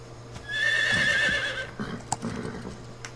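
A horse in the Metal Gear Solid 3 video game, D-Horse, gives a loud whinny over a short burst of hoof clops, followed by a few scattered game effects.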